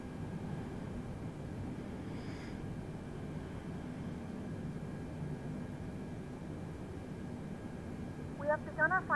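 The engines of a KLM Boeing 747 idling in Microsoft Flight Simulator give a steady, low, even drone throughout, with a short brighter tonal sound near the end.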